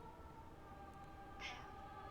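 A cat meows once, briefly and faintly, over a steady low drone in the spooky ship setting of the video game Sunken Engine.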